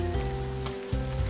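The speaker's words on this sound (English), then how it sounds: "suddenly the rain begins to fall. It was sunny this morning, so I didn't watch the weather report, but it's a pretty heavy rain" A heavy, sudden evening rain shower hisses steadily and densely, filling the whole clip with a loud, continuous wash of falling water and no voices.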